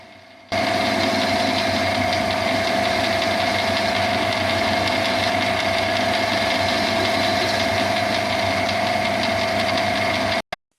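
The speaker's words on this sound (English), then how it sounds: "The blank is turned till the required diameter at the small end is reached" A lathe turns a bevel gear blank down to diameter at its small end, giving a steady, loud machine hum with a strong sustained tone and busy mechanical texture, running continuously for about ten seconds before stopping abruptly.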